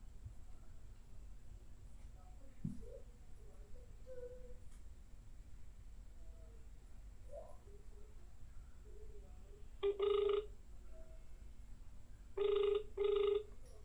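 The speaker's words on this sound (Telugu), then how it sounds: "సో ఫోన్ రింగ్ అవుతుంది బట్ ఎక్కడ ఉందో నాకు తెలీదు." A phone placed on a direct call rings in a few short electronic bursts, clustered in two groups toward the end, over a quiet room with faint background hum.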